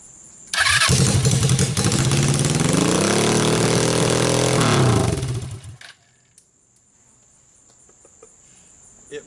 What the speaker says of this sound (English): It runs a lot better on choke.